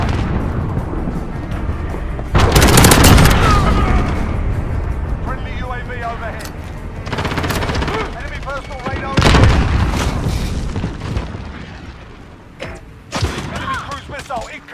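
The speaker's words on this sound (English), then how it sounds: "Allied cruise missile" A cruise missile strike in Call of Duty Modern Warfare multiplayer, with several loud booming blasts and rumbling explosions spaced through the clip amid gunfire and game chatter.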